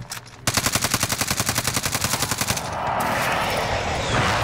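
Automatic weapon fire in Call of Duty: Modern Warfare, a loud rapid burst of about two seconds followed by sustained rumbling battle noise.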